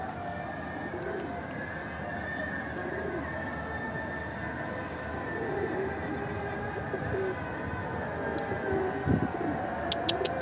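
A pigeon coos near and softly over a steady noisy background, low repeated murmuring calls scattered through the stretch.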